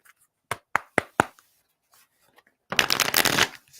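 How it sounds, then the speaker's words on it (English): Tarot cards are shuffled by hand in a few sharp riffling taps, then a brief dense flurry of cards cascading together, close and fairly quiet against silence. "Rochelle, shuffle these cards for you"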